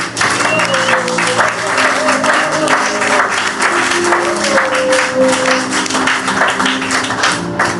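A church congregation claps and cheers for the Lord during a worship service, steady loud applause with rhythmic clapping and voices crying out, a sustained vocal tone running through the crowd noise.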